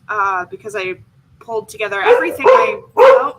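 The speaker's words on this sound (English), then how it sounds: "that's my dog. She says hi." A pet dog barks and yips in short bursts close by, mixed in with someone talking.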